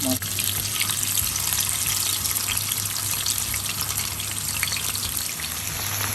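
Fish fries in hot olive oil in a frying pan, giving a steady, dense sizzle that crackles evenly throughout over a low background hum.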